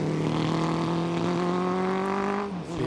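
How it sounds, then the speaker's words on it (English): Classic single-cylinder racing motorcycles roar past at a hillclimb festival, a loud, buzzing engine note that holds steady and then drops away as the bike passes. "The sound of the single-cylinder bikes."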